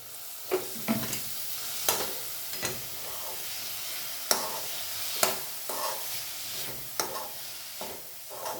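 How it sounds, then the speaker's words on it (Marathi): Cluster beans sizzle in a hot pan while a utensil stirs and scrapes them in irregular bursts, close and steady, with no talking. "आता भाजी आपण परतून घेऊ."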